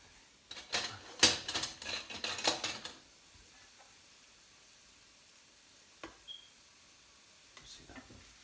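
Cauliflower fritters fry in a pan with a close, crackling sizzle, busiest in the first few seconds, then settling into faint spitting and a couple of light utensil taps.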